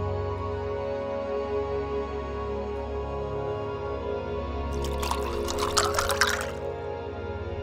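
Water is poured into a glass for a guest indoors, a soft splashing trickle lasting about two seconds over a steady low background hum.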